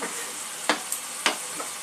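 Onion, ginger and garlic fry in a pan over a low-to-medium gas flame, giving a steady close sizzle with a few sharp spatters and stirring scrapes, no voices.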